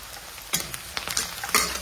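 Green chillies fry with ginger and garlic in a pan for a matar paneer, a steady close sizzle broken by a few scraping stirs.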